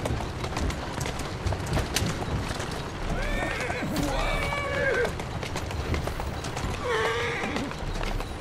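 Horse in Assassin's Creed Syndicate whinnying in several bright, wavering calls over steady clip-clopping hooves, with a background bed of street ambience and faint talk mixed in.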